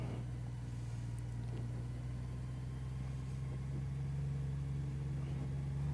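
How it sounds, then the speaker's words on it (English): A Honda CBR 600rr motorcycle engine runs at a steady idle, a low, even hum with a constant tone, fairly quiet and heard alone. "Just gonna do a little test run on the bike to see how well he can hold it up."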